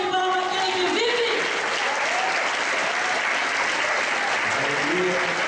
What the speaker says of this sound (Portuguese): Uma salva de palmas àquele que vive.